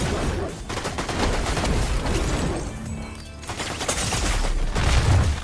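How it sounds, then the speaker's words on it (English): Dense gunfire in the Fortnite video game, rapid bursts and booms crowding the whole stretch loudly, easing briefly in the middle before resuming. "Why are you shooting at me?"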